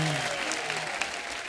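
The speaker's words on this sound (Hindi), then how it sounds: "आइए मेरी माँ के लिए जोरदार तालियां।" Brief studio audience applause on a comedy show, a dense burst of clapping with a faint voice beneath it at the start, fading over about a second and a half.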